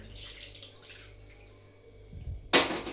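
Water is poured from a small bowl into a mixing bowl for bhatura batter with curd, a faint trickle that builds into a brief, bright splash at the end.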